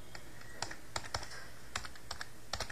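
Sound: typing text on a computer keyboard

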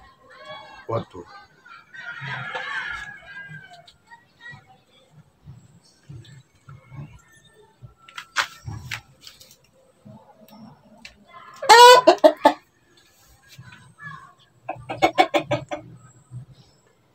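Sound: roosters clucking and crowing

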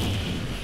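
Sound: explosion in the video game Risk of Rain

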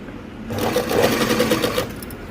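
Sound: sewing machine stitching gota border on blouse with saree cloth

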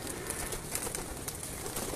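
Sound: pigeons cooing

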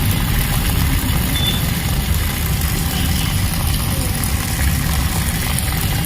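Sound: water pump motor running, switched on by IR sensor

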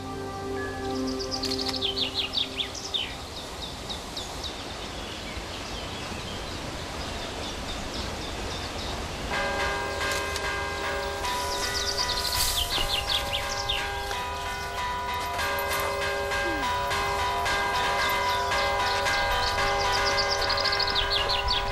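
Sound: church bells ringing in Villavante

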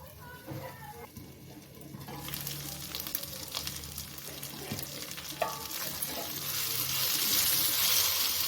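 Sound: brinjal being stirred and cooked in a pan

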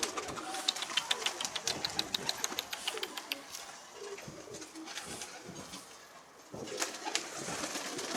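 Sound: pigeons cooing

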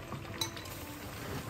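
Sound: glasses clinking in a New Year toast

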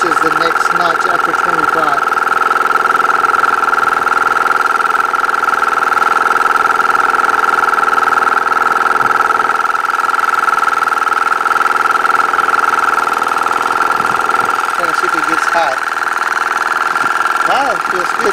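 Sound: Audew dual cylinder 12V air pump running

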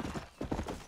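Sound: horse galloping in video game Red Dead Redemption

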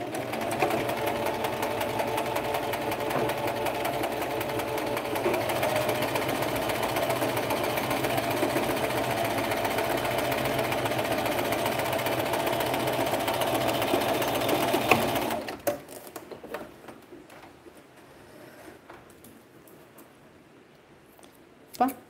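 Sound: sewing machine stitching close to the fabric edge

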